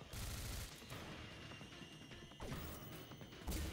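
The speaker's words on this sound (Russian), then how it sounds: "То есть взрыв в бочке его уничтожает." An explosive barrel blasts in the shooter game Singularity, a loud close crash with bursts of impact noise and a second sharp hit near the end, no talk over it.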